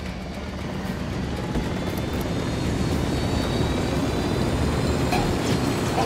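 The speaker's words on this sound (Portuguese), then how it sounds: "Helicóptero chegando." Helicopter approaching in the Ghost Recon Wildlands video game during a firefight: a steady, loud rotor and engine roar that holds for the whole stretch and swells slightly as it draws nearer, with no talk over it.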